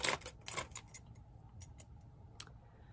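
A bunch of old family keys, including car keys, jangles close by. Metallic clinks and rattles come in short, uneven bursts that thin out over a few seconds.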